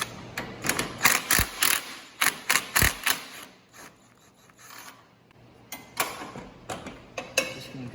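Bursts of quick metallic ratcheting from a socket and wrench loosening bolts on a John Deere lawn tractor, in clustered clicks with short pauses between them.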